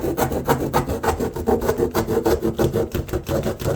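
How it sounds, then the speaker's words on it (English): A knife saws through the thick cardboard lid of a shipping box for a masthead unit, giving steady, close rasping strokes in a fast back-and-forth rhythm that stays loud with no talking. "I'm going to saw, making sure I don't hurt myself, the lid of this box"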